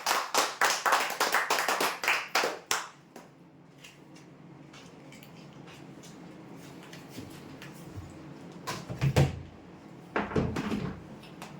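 Loud applause bursts from an audience at a weekly prize draw announcement, a dense run of clapping for the first few seconds, then a quieter room hum before two shorter rounds of claps near the end.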